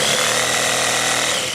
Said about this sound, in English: letting the power tool send the stroke right here